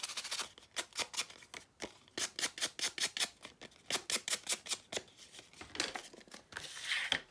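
Scissors snip repeatedly through a jumbo playing card being trimmed into a tag, each close, crisp cut coming in quick bursts of several snips separated by short pauses.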